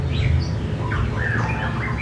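White-rumped shama (murai batu) sings in short whistled phrases and chirps, fairly close, over a steady low hum of background noise.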